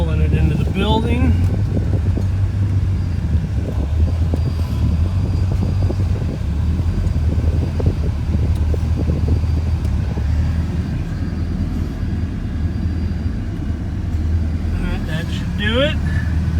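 A 1974 Chevrolet Blazer barn find idles and creeps into a building, its engine a steady low rumble under a voice at the start and end, with wind buffeting the microphone.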